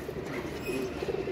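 A pigeon coos softly and low, close by but faint, with a couple of murmuring throaty phrases over a dull background hum.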